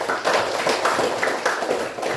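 A group of students applauds in a Catholic religion classroom, a thick, even wash of many hands clapping close by, sustained and loud with no talk over it.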